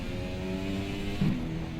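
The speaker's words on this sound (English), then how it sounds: "You should be able to hear me over the engine noise, but I still want the engine noise to be audible" Engine of a McLaren MP4-30 Formula 1 car in a racing video game, a continuous buzzing drone with steady harmonics that swells briefly, heard alone.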